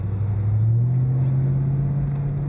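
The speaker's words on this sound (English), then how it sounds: "that's 25 miles an hour right there with just barely a blip of the throttle" A 1988 Ford Mustang LX 5.0 convertible driving at about 25 mph in light traffic, a steady low engine hum with a slight rise from a gentle throttle blip, heard from inside the car.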